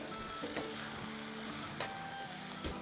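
Chicken for a large batch of chow mein stirred in a pan on the stove, with a steady frying sizzle throughout and a few scraping knocks of the spoon against the pan, no talk.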